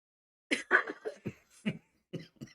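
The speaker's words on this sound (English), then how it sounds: "take another sip of my cup and then like cough again" Someone coughs after a sip from a cup, a few short close bursts then a quieter pair, with no other sound around them.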